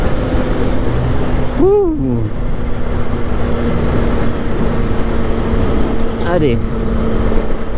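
A CF Moto 675 SR-R sport motorcycle cruising in sixth gear, its engine and exhaust holding a steady drone, with a brief rev or wind rush midway; a rider speaks over it a couple of times.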